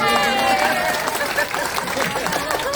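Audience at a corporate training session applauding, a dense burst of clapping mixed with cheering voices and babble, loud and steady for a few seconds.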